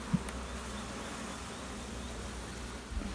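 A dense, steady hum of many honeybees buzzing close by at a hive, continuous and unbroken throughout.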